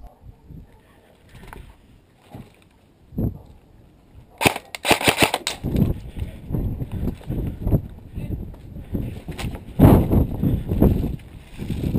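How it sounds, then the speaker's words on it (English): Sharp snapping pops of airsoft guns firing in scattered bursts, some close and loud, others farther off, with faint background chatter. "I hear lots of BBs being fired through the windows around me"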